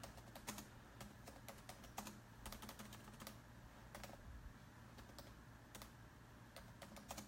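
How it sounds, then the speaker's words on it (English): Quick, uneven keystrokes clatter on a laptop keyboard, close and fairly quiet, in bursts with short pauses and no one speaking. "let me just type this in here"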